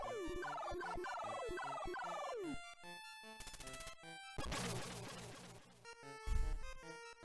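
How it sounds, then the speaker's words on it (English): Electronic birds in a retro video game squawk in quick descending chiptune chirps, repeated in a run of bright synthetic bursts over jingly game tones, with no voice present. "here come the pooping birds"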